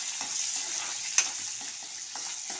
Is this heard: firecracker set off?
no